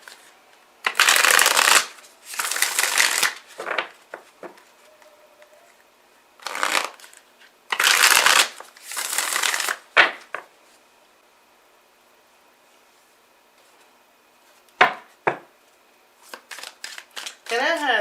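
Playing cards shuffle in several loud riffling bursts spread across the stretch, separated by quiet gaps, with a voice speaking briefly between them.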